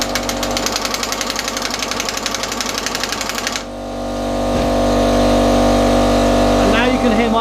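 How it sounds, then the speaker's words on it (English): An air compressor kicks on and runs as a steady, loud mechanical drone. Before it starts, a rapid rattling tool noise ends abruptly. A faint voice speaks near the end. "now you can hear my compressors come on"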